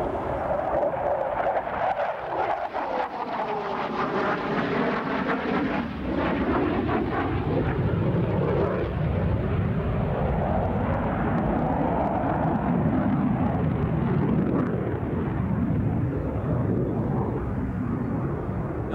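A General Dynamics F-16 Fighting Falcon jet roars past at a flying demonstration, its loud engine noise sweeping and shifting in pitch as it passes, then settling into a sustained heavy rumble.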